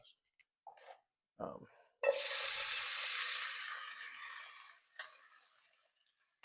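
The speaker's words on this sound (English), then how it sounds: "Get our pork and green onions into the pan here" Pork belly and green onions drop into hot oil in a pan, and a loud, close sizzle bursts in and holds steady for a few seconds before easing off, preceded by brief clinks and handling noises.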